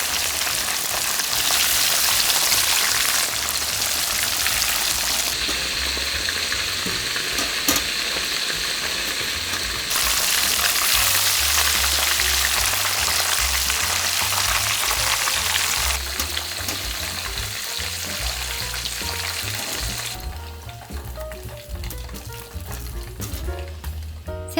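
King prawns coated in breadcrumbs deep-frying in oil, a dense, steady crackling sizzle that shifts in intensity and thins out near the end, with no talk.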